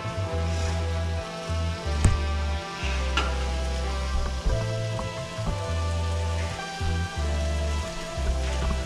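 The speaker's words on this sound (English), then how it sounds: "Now they're starting to sizzle." Green beans sizzle in a hot pan with a steady, crackling frying hiss, broken by occasional stirring clatter and a low, intermittent hum underneath. No one speaks.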